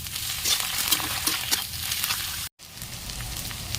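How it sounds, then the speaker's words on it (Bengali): Ginger garlic paste fries with chopped onions and whole spices in hot oil for a chicken curry, giving a steady close sizzle with stirring scrapes; a brief dropout cuts it near the end. "পেঁয়াজটা ভালো করে ভাজা হয়ে গেলে এতে আমি অ্যাড করে দেবো 3 চামচের মতো আদা রসুন পেস্ট।"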